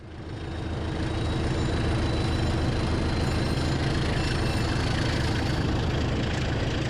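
Inside a Schindler railway carriage riding the Douro Valley line toward Porto, a steady loud rumble and roar of running gear and engine holds constant throughout, close and enveloping, with no voices.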